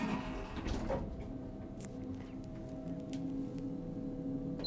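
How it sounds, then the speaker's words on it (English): Elevator doors aboard the ferry MS Stena Scandinavica slide shut with a soft rumble and a couple of clunks, followed by a steady low hum and light clicks in a quiet car. "Doors closing. Please mind the doors."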